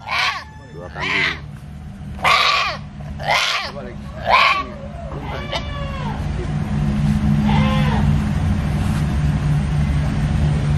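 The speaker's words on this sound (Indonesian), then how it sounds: "Dua kambing." Goats bleating at an aqiqah ceremony where two goats are brought for slaughter, several loud close calls in the first half, then fainter bleats over a steady low hum, with people talking nearby.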